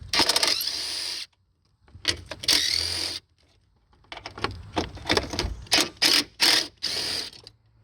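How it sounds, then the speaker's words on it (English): Ratchet loosening three 10mm starter bolts on a 1998 Toyota Avalon, heard as close, loud bursts of rapid clicking broken by brief silences, with no talking. "Then we're going to remove these 3 10mm bolts."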